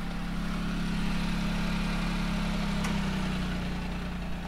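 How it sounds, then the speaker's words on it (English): A 1991 Honda Beat's small engine idles steadily with a low hum through an aftermarket exhaust, its pitch shifting slightly partway through as the air conditioning changes the engine speed. "And the AC is on, that's why you're hearing the engine speed change."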